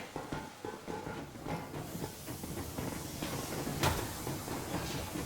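Train in the Metro Exodus video game setting off, with clanks, hisses and rattling thumps of rail cars starting to move, a sharp metallic hit near the end, fairly close and busy.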